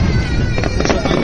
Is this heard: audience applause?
no